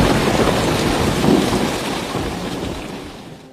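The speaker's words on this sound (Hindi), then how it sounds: "और मूसलाधार बारिश शुरू हो गई।" Heavy torrential rain with rumbling thunder in an animated cartoon story: a dense, loud, steady roar that slowly fades over a few seconds.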